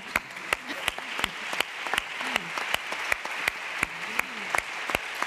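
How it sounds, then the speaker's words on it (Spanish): An audience at a Spanish library policy conference session applauds, a thin, sparse patter of individual claps at a fairly steady pace, moderately quiet in a large room. "Vamos a dar un aplauso a Laura."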